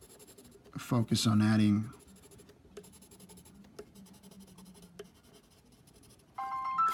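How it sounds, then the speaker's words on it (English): Colored pencils scratching across paper in soft, repeated strokes, close and quiet, while a person talks briefly over the drawing. "Now I'm going to get super crazy with it. Colored pencils."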